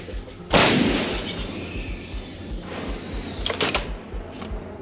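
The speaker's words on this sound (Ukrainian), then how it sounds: "Постріл!" One heavy artillery gun fires in a combat setting with a deep, booming report that rolls away, followed by lighter clatter and a couple of sharp knocks.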